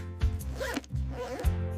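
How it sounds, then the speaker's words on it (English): A bag's zipper is pulled in several quick back-and-forth strokes while packing, close and clear with no voices. "I pack my bag."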